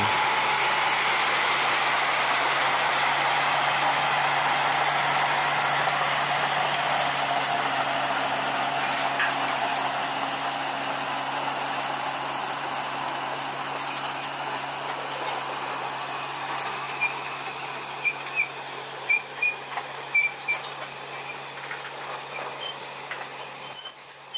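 An old sugar mill steam locomotive, Skoma no. 07 of PG Kedawung, passes a level crossing in East Karawang with a sustained rumbling run and a faint steady tone, easing off into scattered clanks and squeaks.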